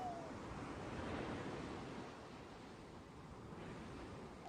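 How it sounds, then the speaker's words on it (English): Ocean waves wash in a soft, steady broadband hiss for a meditation soundtrack, a gentle surf that swells slightly early on and then settles lower, with no voices. "and then you hear the waves"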